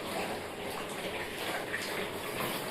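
Water from a tap runs in a steady, hissing stream, close and continuous for the whole short stretch, with no other sounds.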